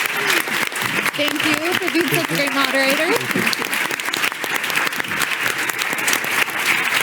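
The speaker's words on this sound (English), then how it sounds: "So please give them a very warm applause." Sustained audience applause from a crowd at a panel event with many guests, loud and continuous throughout, while a voice speaks over it.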